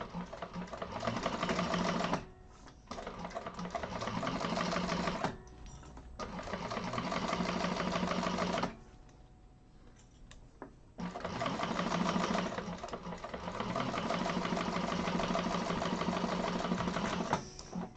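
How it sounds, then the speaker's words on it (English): Industrial sewing machine chain stitching a Pawling handbag with Tex 90 thread, running in several sustained bursts of rapid mechanical whirring separated by short pauses, close and loud with no talk. "I'm going to go in with this one as well and chain stitch them."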